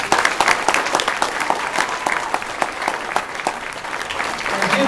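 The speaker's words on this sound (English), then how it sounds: "let's have a round of applause for all the people who spoke" Steady applause from an outdoor crowd in the rain at a Day of Action event in Boston, dense clapping throughout with no pauses, fairly loud and close.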